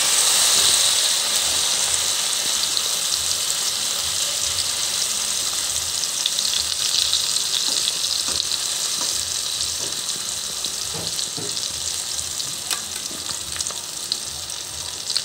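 Eggplant omelette (tortang talong) frying in a pan, a steady close sizzle and hiss with small crackling pops running throughout, no voices.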